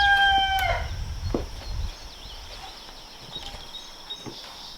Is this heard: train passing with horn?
no